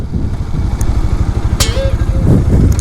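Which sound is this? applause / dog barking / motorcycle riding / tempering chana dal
motorcycle riding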